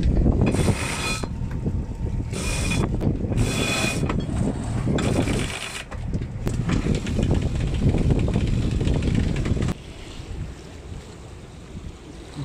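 Strong wind buffets the microphone while a boat sails downwind in about ten knots, with rushing water and hull noise underneath, the gusts easing toward the end.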